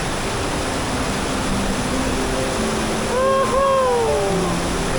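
Steady broadband rush of Mae Surin waterfall in Mae Hong Son, constant and fairly close, with a brief whistle-like tone partway through.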